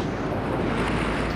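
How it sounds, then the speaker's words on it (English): Large surf breaks at Bondi Beach, a continuous loud rushing wash of water with wind buffeting, heard alone for just over a second. "the waves are too consistent, they're too big"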